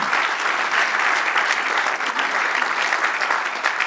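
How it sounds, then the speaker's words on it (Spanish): A church congregation breaks into sustained, dense applause at the close of a sermon, steady and loud throughout with no voices standing out. "Dale un aplauso al Señor"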